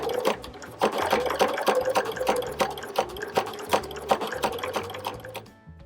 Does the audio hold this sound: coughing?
no